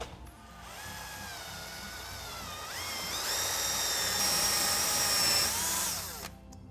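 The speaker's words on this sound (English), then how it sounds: "to make the hole, got a big old Forstner bit" Big Forstner bit boring a hole through foam, a drill whining steadily with its pitch rising partway through as it speeds up, close and fairly loud, then stopping near the end.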